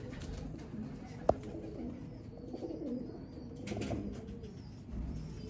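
Teddy pigeons, a hen of a Sialkoti breed, give low soft coos with faint fluttering, and a sharp click stands out early; no speech over them.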